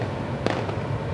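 A single fireworks burst pops sharply near a mall parking lot, standing out briefly over a steady low background hum.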